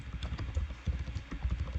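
Quick, uneven key taps on a computer keyboard while entering a web address, a close run of light clicks and thumps with no talking.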